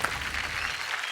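A studio audience at a women's TV game show breaks into loud, dense applause, a brief sustained burst of many hands clapping together.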